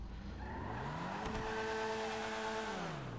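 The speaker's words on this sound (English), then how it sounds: "Let's see how it does with starting off from a sit and go. See how much wheel spin we got." An Annis Saversta in GTA V launches from a standstill, its engine rising steadily in pitch as it accelerates hard, with tyre squeal and wheel spin mixed into the continuous loud roar.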